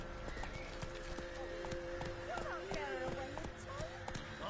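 Hooves of the horse Roach in The Witcher 3 clip-clop in a steady, even trot over a sustained tonal ambient bed, close and continuous throughout.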